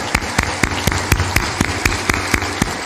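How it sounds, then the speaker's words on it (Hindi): An audience at a spiritual discourse claps in a steady, even rhythm to welcome guests, a close run of sharp hand claps with no talk over it. "ताली बजा दो इनके अभिनंदन में"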